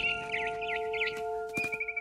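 Barn swallow in the video game What Remains of Edith Finch, giving a run of quick warbling chirps over a steady musical drone, then a brief burst of thuds and a higher trill.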